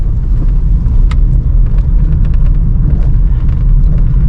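A car coasting and slowing on an uphill road after the accelerator is let off, heard as a loud, steady low engine and road rumble throughout, with no talk.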